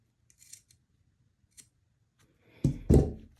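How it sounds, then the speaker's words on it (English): Scissors cutting the fabric corners of a clutch bag, with a few faint snips followed by two louder, close crunching cuts, no talk. "the key is cut as close as you can to the corners, but do not cut the thread"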